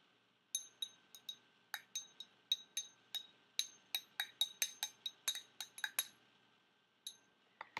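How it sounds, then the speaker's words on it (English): A utensil clinks steadily against a glass container while stirring banana DNA extraction liquid, around twenty bright, close taps in an uneven rhythm, with no voices. "here I just stirred it up a little bit"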